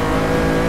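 A race car engine in Forza 6 holds a loud, steady roar under full throttle, close and continuous with no gaps.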